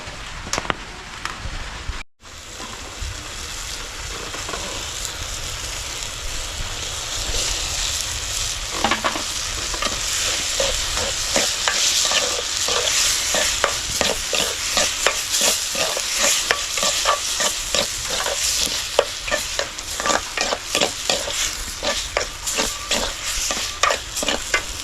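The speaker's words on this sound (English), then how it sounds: "I will allow the tomatoes to cook to a fine paste before adding the eggs." Tomatoes cooking down to a paste in a pan over an African village cooking fire, with steady loud frying sizzle and repeated scraping stirs that quicken into a busy rhythm, close by and without talk.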